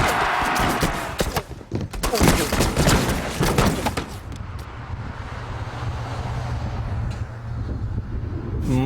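Live black powder musket gunfire outdoors: a dense burst of sharp, overlapping shots and crackling volleys in the first four seconds, then wind and distant rumble after the firing stops.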